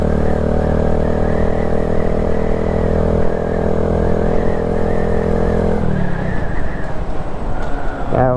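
A 2022 Honda Grom motorcycle engine idles and runs with a steady, buzzing throb up close, then the tone breaks up into rougher revving.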